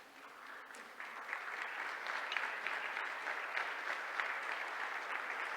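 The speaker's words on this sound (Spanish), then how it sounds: "Ponete de pie, dale tu mejor aplauso al Señor." A standing church congregation breaks into sustained applause for the Lord, the clapping swelling after the first second into a dense, even roar of many hands that holds steady to the end.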